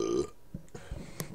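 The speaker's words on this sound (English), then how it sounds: "Excuse me, sorry about that, I just burped" One loud, short belch from a man at the start, followed by quiet clicks and faint shuffling noises without speech.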